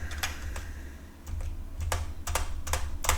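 Typing on a computer keyboard with a broken spacebar comes through as a series of sharp, irregular key clicks over a low hum, fairly close and moderately loud with no speech.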